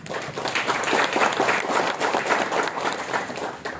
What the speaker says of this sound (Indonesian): Kita boleh tepuk tangan dulu yang ikhlas.